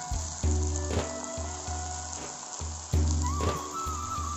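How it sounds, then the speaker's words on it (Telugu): Steady sizzling of broad bean pieces frying with onions in a village-style Andhra kitchen pan, with bubbling crackle and intermittent clatters of stirring over a continuous hum. "ఉల్లిపాయలు బాగా వేగిపోయి ఇప్పుడు మనం ఈ చిక్కుడుగాయ ముక్కల్ని కూడా వేసేసుకుందాం."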